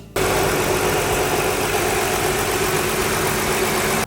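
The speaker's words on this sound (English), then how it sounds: "The engine runs smooth and quiet." A Ford F-150 3.0L Power Stroke diesel engine idles steadily with a smooth, quiet, even rumble that starts abruptly and holds constant throughout.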